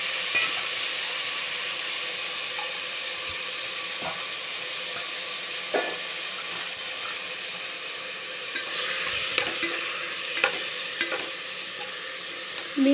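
Beans and onions sauté in a pan with a continuous bright sizzle and hiss, punctuated by intermittent spatula taps and scrapes as they are stirred, close up and without any talking.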